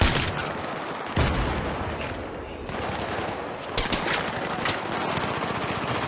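Rapid automatic gunfire in Battlefield 3, dense bursts of machine-gun fire with sharp individual shots, loud and close, continuing throughout with brief lulls.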